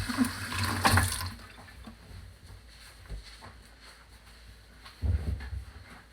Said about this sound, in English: Just wash my hands there again.